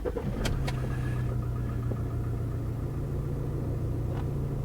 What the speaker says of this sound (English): I think I've got to start the engine as well.